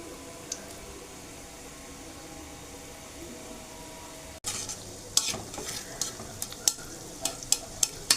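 Peanuts fry in hot oil for a peanut roast, a steady quiet sizzle that grows busier halfway through as pieces drop in, with crisp pops and clicks coming one after another.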